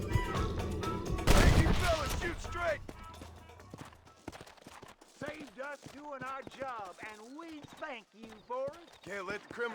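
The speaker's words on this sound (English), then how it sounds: "Oh my god, there's more shooting happening." Bursts of gunfire from the Western game Red Dead Redemption come in a loud volley early on, followed by hoofbeats and a voice talking over the scene.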